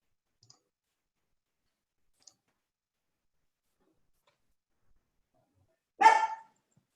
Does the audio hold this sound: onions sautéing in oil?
no